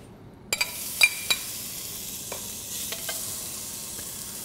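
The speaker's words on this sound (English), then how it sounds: "the first step we need to do is render the bacon" Bacon rendering in a pot for Cajun red beans and rice gives a steady close sizzle, broken by a few sharp clicks and scrapes of a utensil against the pot.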